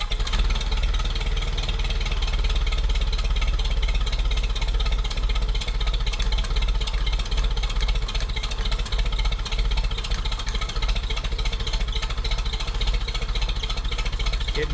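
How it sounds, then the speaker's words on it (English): A hard-starting engine with its choke pulled runs loudly and steadily close by, a continuous rough clattering drone with no pauses. "Let's see if I can pull the choke out and get it to start back up."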